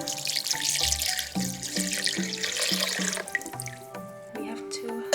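Lukewarm water running from a kitchen tap into a measuring cup for focaccia dough, splashing steadily close by, the pitch rising as the cup fills, then trickling and dripping as the flow stops.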